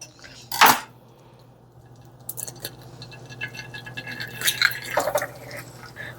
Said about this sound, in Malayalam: അപ്പം എഗ്ഗ് നമുക്ക് പൊട്ടിക്കാം.